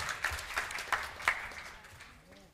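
Quiet, thin applause from an audience welcoming a speaker to the stage at an integrity gathering at the Odeon in Bucharest, a few distinct claps fading out within a couple of seconds under faint voices.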